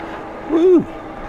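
Electric scooter horn, a Polarna X-01, sounded by accident while riding: one short, loud electronic beep rising and falling over a quiet ride background.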